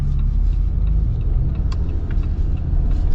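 A 2026 Jeep Wrangler Rubicon Xtreme Recon with a 2.0 turbo engine on 35-inch tires and a 4.56 axle ratio drives along, giving a steady, close low engine and road rumble with no voices.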